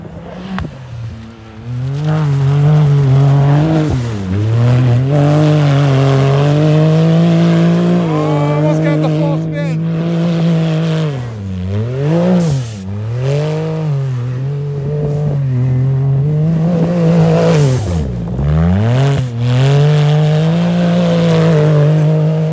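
A Can-Am Maverick X3 side-by-side tears through snow, its engine droning loud and close with repeated rising and falling revs as it passes, then climbs back to a sustained high-pitched whine.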